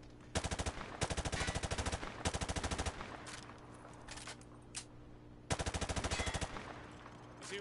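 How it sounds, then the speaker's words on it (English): Rapid machine gun bursts from Modern Warfare 2 Remastered ring out in several sustained volleys, loud and rhythmic, separated by brief pauses with scattered single shots between. "He sprayed bullets all over the damn place"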